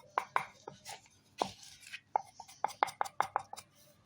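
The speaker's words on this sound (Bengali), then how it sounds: "ছুরি দিয়ে এগুলো সুন্দর করে চৌকো চৌকো শেপ করে কেটে নেব" Knife blade chopping rolled coconut pitha dough into square pieces on a board, a quick run of sharp taps, a few at first and then a tight series of close, crisp cuts.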